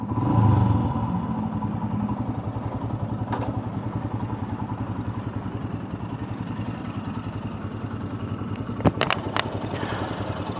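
A Royal Enfield Himalayan motorcycle engine idles steadily at close range with a low, even putter, a few sharp clicks near the end.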